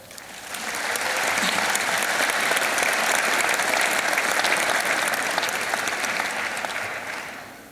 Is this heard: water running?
no